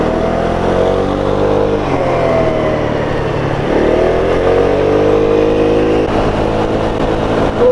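A rented Peugeot scooter's small engine drones steadily along long, sweeping mountain bends in Andalusia, its pitch rising and falling with throttle changes over constant wind rush, loud and close throughout.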